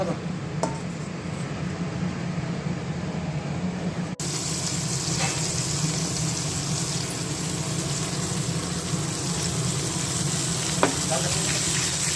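Luchi fry in a pan with a continuous, lively sizzle and bubbling that grows brighter partway through, with a few faint clinks over the steady hiss.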